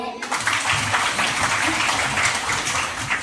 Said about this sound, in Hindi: क्या अपने लिए ताली बजाओ।